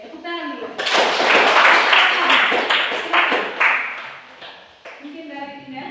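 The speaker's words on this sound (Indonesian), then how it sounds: "Oke, tepuk tangan dulu." A classroom of students claps in a burst of applause lasting several seconds, fairly close and loud, with a voice speaking just before and after.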